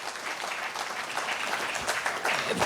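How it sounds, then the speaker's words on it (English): A crowd at an economic symposium applauds steadily, many hands clapping in a dense, continuous wash at moderate volume. "Another round of applause for Mheshimiwa."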